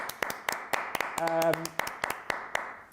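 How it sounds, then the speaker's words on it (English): Sparse claps and a brief musical sting ring out for two quiz teams on a Friday night live quiz show where Facebook won 10-9, a handful of separate hand claps spaced across a few seconds with a tone in the middle. "So round of applause for both teams there."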